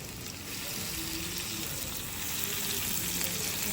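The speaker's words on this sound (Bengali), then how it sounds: "রসুনের একটা পেস্ট ঢেলে নেব, ওখানে সামান্য একটা সরিষা এবং জিরে আছে।" Garlic paste frying in oil with mustard and cumin seeds, a close, continuous sizzle and crackle at moderate loudness with no talking.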